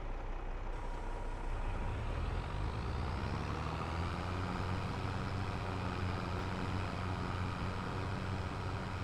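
Tractor engine straining while pulling a large slurry spreader in the Farming Simulator 22 video game, a continuous low droning rumble with a gradually rising tone, steady and without talk.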